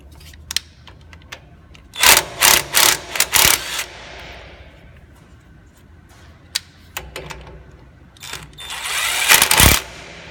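A pneumatic impact wrench fires in a quick cluster of loud, rattling bursts, then goes quiet before a longer closing burst near the end.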